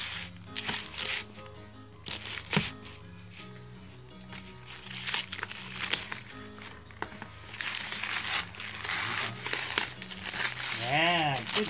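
Wrapping paper crinkling and tearing as a taped gift is unwrapped, in bursts of rustling close by, with people talking and background music throughout.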